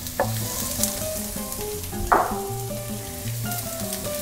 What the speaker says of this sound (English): I'm going to fry my onions in, that's 2 tablespoons of olive oil